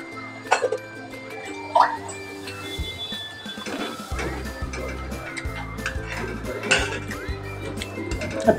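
Fried pakodas being stirred into kadhi in a pot, with scattered clinks and scrapes of a spoon against the vessel, soft wet shifting in between, and a faint hum underneath.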